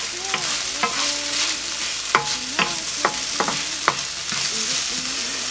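Spinach frying in a pan with a steady sizzle, while a utensil scrapes and taps against the pan in several sharp stirring strokes; close and fairly loud, no talking.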